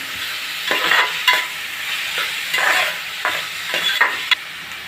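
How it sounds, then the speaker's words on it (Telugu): Raw prawns and half-cooked onions fry in a pan, a steady close sizzle under repeated scraping strokes of a spatula. "ఇప్పుడు నేను పచ్చిరొయ్యలు వేసేస్తున్నాను. ఉల్లిపాయ పచ్చిరొయ్యలు బాగా వేగాలండి."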